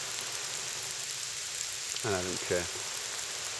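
Rain falls outdoors as a steady, broad hiss of drops on surfaces, with someone speaking briefly over it near the end.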